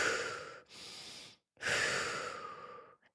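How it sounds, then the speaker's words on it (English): Deep breaths drawn in and let out by a woman demonstrating calming breathing: three long, airy breaths, close to the microphone, with short pauses between them and no talking. "When you just take deep breaths in like this,"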